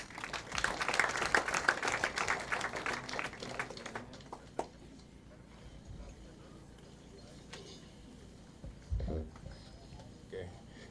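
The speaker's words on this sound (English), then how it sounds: "Can we clap for him as he comes?" Applause fills a university hall at a career, innovation and entrepreneurship week as the Vice Chancellor comes up. A full crowd claps dense and steady for about four seconds, then it fades to quieter room noise with a few stray sounds.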